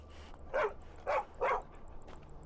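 A dog in the Skyrim video game barks three times in a quick uneven series, moderately loud over a quiet game ambience, with no speech.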